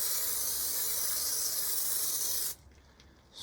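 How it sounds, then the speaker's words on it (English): Surfex foam cleaner sprays onto the brake caliper of a Ducati Scrambler Icon Dark motorcycle as a loud, continuous close aerosol hiss for about two and a half seconds, then cuts off abruptly. "I'm going to spray on some more Surfex foam onto the brake caliper."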